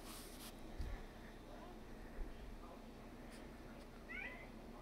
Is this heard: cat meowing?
yes